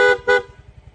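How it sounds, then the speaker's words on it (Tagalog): A PIA auto style dual horn fitted to a Yamaha Gravis scooter gives two short, loud, brassy toots in quick succession over the steady low putter of the idling engine. "PIA auto style horn, dual horn setup."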